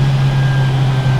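Specialist Components twin cam 16-valve classic Mini Cooper engine held against its rev limiter, a loud, steady droning buzz with a strong low tone and faint stuttering pulses, heard close from inside the car.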